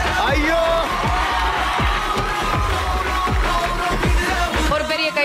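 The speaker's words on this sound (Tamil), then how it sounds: "ஒரு பெரிய கைத்தட்டலோட" A studio audience at a Tamil television music game show applauds and cheers loudly and continuously, a dense wall of clapping and crowd whoops with whistling sweeps throughout.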